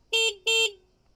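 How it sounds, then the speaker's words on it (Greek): Horn of a Niu N GT electric scooter, two short clear beeps in quick succession, close and loud, then silence. "κόρνα"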